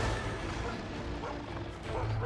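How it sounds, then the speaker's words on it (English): In a monster-hunting video game, a dog companion barks amid dense game sound effects and a steady low rumble, while a player talks over the action. "Yeah, bark at him, Furoshi."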